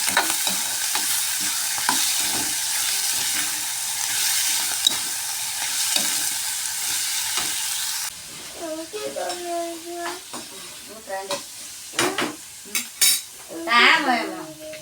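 Food fries in a pan while it is stirred, a steady close sizzle with scraping utensil strokes, giving way to sparser clinks and knocks against the pan and some faint background voices.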